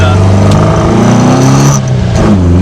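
A 1971 Ford Capri engine revs hard under acceleration and changes pitch as it moves through the gears, loud and close from inside the car, with a voice speaking underneath.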